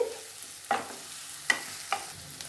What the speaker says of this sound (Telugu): ఆనియన్స్ని వేపుకుంటున్నాం కదా, మీడియం ఫ్లేమ్లోనే చేసుకోండి.